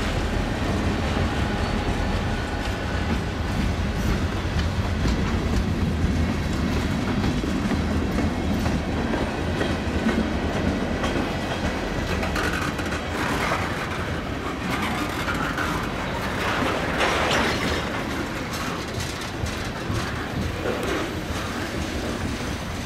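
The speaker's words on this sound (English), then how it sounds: "the Iowa Northern just come off of their line at the Cedar Falls Junction, and they jump on this CN line" An Iowa Northern freight train rolls past on a Canadian National line near Cedar Falls Junction in snow, a loud, steady rumble with rhythmic clickety-clack of wheels over rail joints that holds for over twenty seconds, close by, with no voices.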